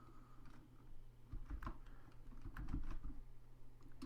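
Computer keyboard typing during an R programming lesson, a few soft scattered keystrokes in short bursts, faint and close against a steady low background hum, with no voices.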